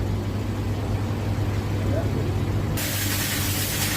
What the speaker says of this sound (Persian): در حال تخلیه روغن کهنه